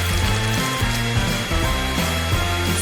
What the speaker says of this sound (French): j'ai besoin d'un sèche-cheveux pour faire fondre la peinture des Skittles